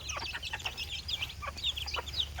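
Chickens cluck and chatter at a morning feeding on a rainy day, a busy overlapping flurry of short calls from several hens nearby, fairly quiet overall.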